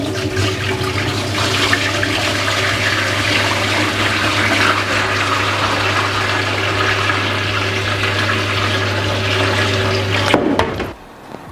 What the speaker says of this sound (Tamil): இந்த அரிசியை கழுவி நல்லா ஒரு 3 தண்ணியில் கழுவி ஊற வைக்கிறேன்.